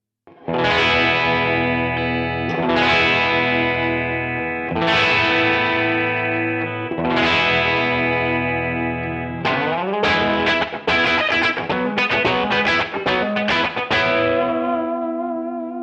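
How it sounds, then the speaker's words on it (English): Overdriven electric guitar through a PRS Silver Sky's bridge humbucker pickup with a thick, bright tone: four ringing chords let sustain, then a faster run of picked notes and chord stabs. "So obviously the bridge pickup sounds a lot different than the other two."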